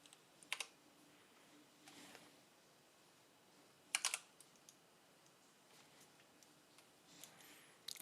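Faint, sparse keystrokes on a computer keyboard: a few short clusters of clicks separated by quiet gaps in an otherwise silent room.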